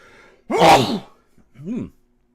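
One loud, close sneeze with a sharp burst of breath, then a brief voiced exhale in a quiet room.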